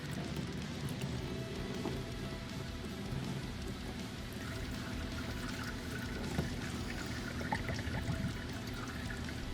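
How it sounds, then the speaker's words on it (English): Motor oil draining and dripping from the oil filter of a 2015-2020 Ford Mustang GT during an oil change, a steady close trickle and patter running continuously with no speech. "Now you just want to let that slowly drain out. It'll drip a little bit for not too long"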